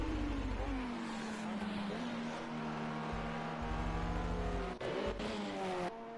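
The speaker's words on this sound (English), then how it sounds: "a Lamborghini, which is now, as we speak, looking very quick it is as it flies down here" Lamborghini race car flying past at Le Mans, its engine note loud and sustained throughout, pitch shifting as it passes, with a brief gear change near the end.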